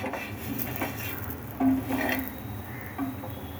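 A spatula scrapes and taps against a hot pan while cutting a ragi flour dosa made with greens and onion, giving soft rubbing strokes and a few light metallic clinks close by.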